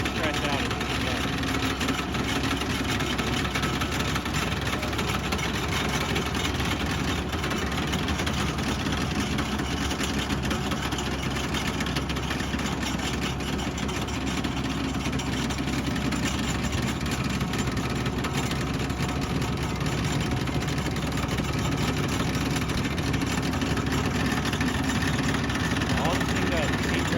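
A rail heater with a vibrating unit on its front runs on a rail gang, giving a loud, steady droning machine rumble with a constant buzzing texture for the full length, and muffled voices at times.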